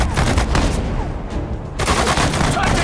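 Infantry gunfire crackles in the video game Sudden Strike 4, dense bursts of rifle and machine-gun shots in rapid overlapping volleys, loud and close, pausing briefly before resuming.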